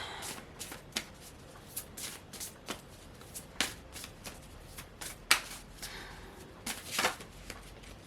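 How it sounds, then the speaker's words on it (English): Tarot cards being shuffled and drawn, with soft repeated riffles, flicks and slaps of cards sounding close and quiet in an otherwise still room. "I'm gonna pull another card because we got this card last time"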